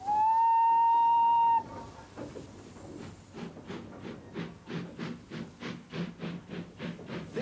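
An LMS 3F steam locomotive at the Midland Railway Centre in Derbyshire gives a loud, sustained whistle, then after a short pause settles into a steady, evenly spaced rhythm of close, hissing exhaust chuffs.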